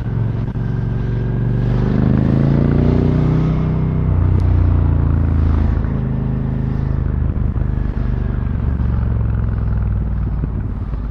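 A Suzuki SV 650 (2025) motorcycle with a Yoshimura exhaust hums along in a steady, continuous engine drone while riding, loud and close, with slight rises in pitch and no speech.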